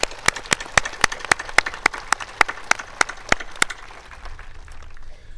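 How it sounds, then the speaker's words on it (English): Mayville High School 2021 graduation ceremony audience applauding: crisp, evenly spaced claps ring out in a steady rhythm, then stop after a few seconds, leaving low room noise. "So I'd like to give them a round of applause for that."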